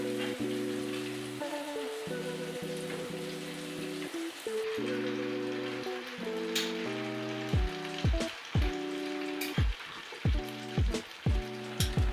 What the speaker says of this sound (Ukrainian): це шприц та фритюрниця, в якій ви будете власне смажити наші чурос